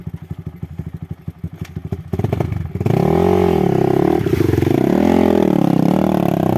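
A motorcycle engine idles with a rapid putter, then revs up loudly several times, rising and falling in pitch close by.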